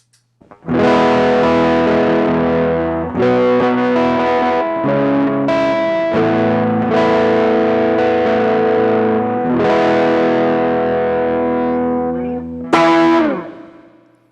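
Electric guitar chords played through an overdrive pedal, a thick crunchy tone with sustained strummed chords ringing out in sequence, loud and close, ending with a final struck chord.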